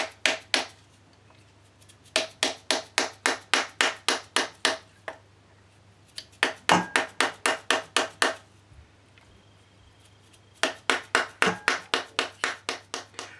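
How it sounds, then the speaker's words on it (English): Bursts of rapid, evenly spaced mallet taps on a silver ring being rounded, about ten strikes per burst, separated by short pauses; close and crisp, with no voices. "I'm going to hit it with a mallet because I want to get it round"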